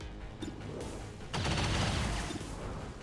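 Suppressing gunfire in the XCOM 2 video game, a few scattered shots followed by a denser rattling burst, moderately loud with no talking.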